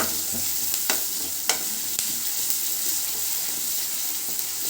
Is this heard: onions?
yes